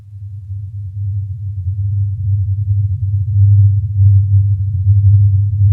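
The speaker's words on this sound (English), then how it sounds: "the most commonly reported noise is a low-frequency hum that persists in the area" A steady low-frequency hum drones continuously with no other sounds, swelling slightly louder toward the end, as reported persisting in an area.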